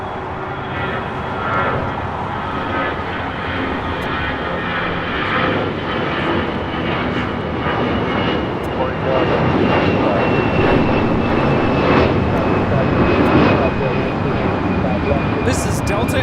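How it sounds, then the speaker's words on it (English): A Delta Air Lines Airbus A319 takes off at LAX, its jet engine roar loud and continuous, growing somewhat stronger in the second half, with faint higher-pitched hissing near the end. "This is Delta Airlines 1743 taking off to Dallas Love Field on an A319"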